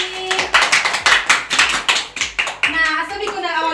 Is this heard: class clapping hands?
yes